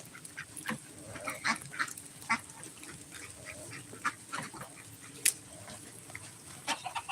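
Ducks quacking and honking in scattered bursts, fairly faint, with a soft background hiss and no talking.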